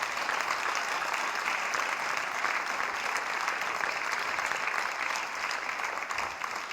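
An audience at an evening award ceremony for a heart prize applauds a group of colleagues, a steady, full wash of clapping that holds at an even level for nearly seven seconds without any talking.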